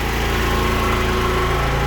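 Two Predator 9500 generators run in parallel, powering a food trailer, a steady loud engine drone with constant mechanical hum and no pauses, close by and without speech.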